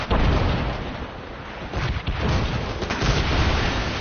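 Cannon fire from ships in the game Assassin's Creed Rogue: heavy, dense booming and rumbling runs throughout, loud and continuous, with overlapping blasts and no clear gaps between shots.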